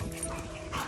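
A dog at a socialization and focus training session gives a short, soft whimper or yip, close by, with a low background murmur and no talking.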